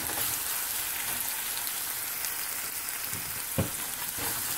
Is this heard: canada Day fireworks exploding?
no